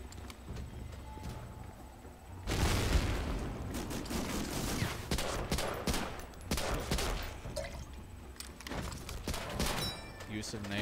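Sniper gunfire and shooting in an Xbox first-person shooter game, a dense burst of loud cracks and rattling shots that starts abruptly and continues with scattered impacts.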